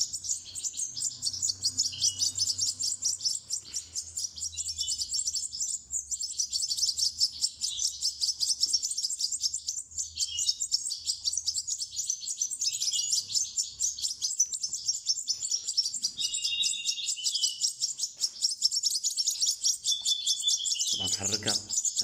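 Goldfinch chicks over ten days old chirp rapidly and continuously at close range, a dense high twittering with a faint voice low in the background.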